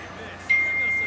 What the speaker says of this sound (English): Ah, my phone buzzed.